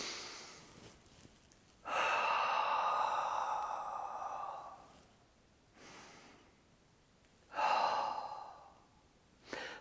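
Slow, deep breaths taken while turning the head side to side, long airy inhales and exhales with quiet pauses between, close and alone.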